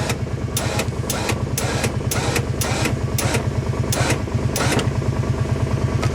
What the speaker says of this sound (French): tout ce qui va nous rester à faire, c'est tout simplement de se servir de notre treuil électrique